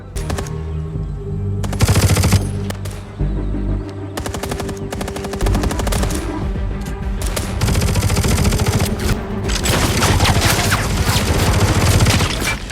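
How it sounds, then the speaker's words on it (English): Rapid bursts of automatic gunfire and scattered single shots ring out loudly during a weapons demonstration for buyers in an action film, the rattling volleys returning in waves across the scene. "Parker secretly infiltrates the Swan property and watches as Elvis demonstrates several weapons for a group of buyers"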